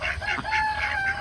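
Backyard chickens and ducks on a farm during hot-weather chores, clucking and calling in a steady stream of short repeated notes, close by and moderately loud, with no talk over them.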